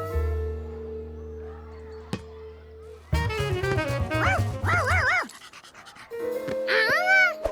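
A cartoon dog yipping and barking in quick bursts with panting and whimpery, bending tones over background music, bright and close.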